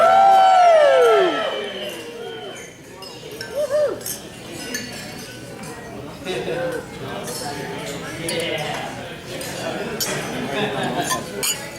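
Glasses clink at a wedding toast, a bright ring at the start followed by more scattered chinks and clatter of tableware amid murmuring guests and a few cheers.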